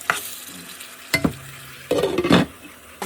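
Tomato puree cooking in oil in a pan, heard as a few short bursts of scraping and bubbling stirs separated by quieter gaps.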